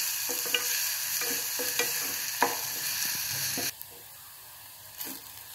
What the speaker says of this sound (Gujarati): प्याज ने बराबर कोटलवानुं छे।